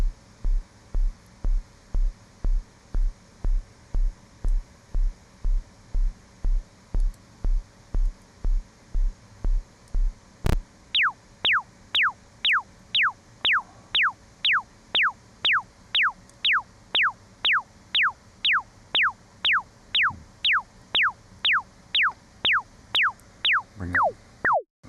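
Deep, low synth tone throbbing in a steady rhythmic pulse, which then gives way to a repeating series of higher sweeping chirps at the same pace.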